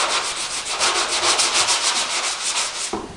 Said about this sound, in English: So, we've got a sanding block.